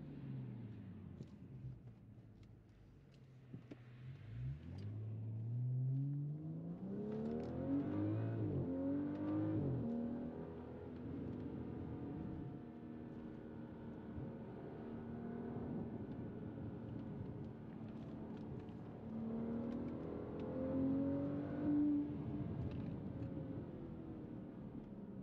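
A 400 hp BMW 535i F10 with a Remus exhaust at full throttle: a loud, close engine note climbs steadily in pitch through two long acceleration pulls, with a brief dip between them as it shifts.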